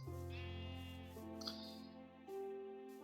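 Faint sheep bleats in a village farm scene of a video game, a few drawn-out wavering calls in succession, soft and distant, with no talk over them.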